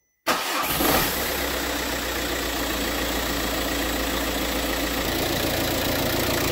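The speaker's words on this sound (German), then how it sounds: "Und dann starten wir die Kiste mal." An Audi A3 8P with the 2.0 TDI diesel engine, fresh timing belt and water pump fitted, cranks and fires after a moment of silence, then settles into a loud, steady, close idle with diesel clatter.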